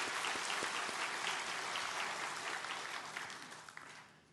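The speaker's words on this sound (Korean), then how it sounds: "우리 모든 분들을 위해서 다시 한번 감사의 박수 드리겠습니다" Applause from a church congregation at a Baptist Sunday service, many hands clapping together, steady and full, fading gradually toward the end.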